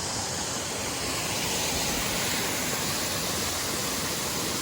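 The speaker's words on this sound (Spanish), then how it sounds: "Tenemos las cascadas, todo para nosotros." Steady, full-band roar of the Don Juan waterfalls in El Salvador, a dense unbroken rush of falling water close by with no voices.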